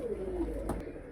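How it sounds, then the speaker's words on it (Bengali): A pair of Golla pigeons gives a soft, low coo, one short throaty phrase close by against a quiet indoor background. "দেখতে পাচ্ছেন একজোড়া খুব সুন্দর গোল্লা কবুতর"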